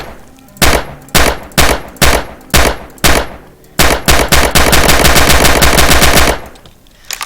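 Gunfire in the video game Heroes and Generals: a series of evenly spaced loud single shots, then a sustained rapid automatic burst, all close and dominant.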